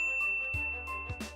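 A notification bell sound effect gives a bright, clear ding, followed by a couple of quick metallic chime strikes ringing out over a sustained tone, with no voices.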